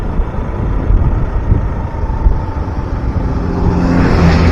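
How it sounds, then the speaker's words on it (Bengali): A bus approaches on a hill road at Ayodhya Pahar in Purulia, its engine rumble growing louder toward the end under heavy wind noise. "একটা বাস আসছে সামনে।"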